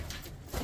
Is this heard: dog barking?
no